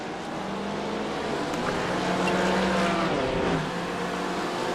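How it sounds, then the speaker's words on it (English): GT3 race cars from a racing video game at Daytona roar as twenty of them pack into turn 1, a steady dense engine drone with shifting pitch and no talk over it. "20 cars down into turn 1"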